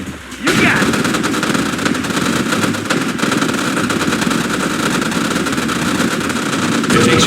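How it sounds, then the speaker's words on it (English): Soldiers in Red Alert fire machine guns at a derelict American Grizzly battle tank. Loud, unbroken automatic fire starts after a short pause and carries on over an engine rumble. "Order your men to destroy the crippled tank."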